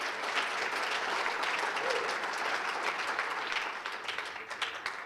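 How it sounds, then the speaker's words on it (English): Audience at a chamber of commerce annual awards gala applauding, steady dense clapping that tapers off near the end, heard at a moderate distance. "Give them a nice round of applause."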